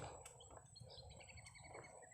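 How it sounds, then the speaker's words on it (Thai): Wild birds call in a forest, with several thin, bright chirps and tweets scattered over a constant low background hum. The calls are moderately near and there is no speech. "เสียงนกที่อยู่ในป่าครับนี่"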